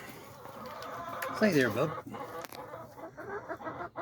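Hens in a farm chicken coop give a brief burst of loud clucking and squawking partway through, while someone talks nearby and other farm background noise carries on.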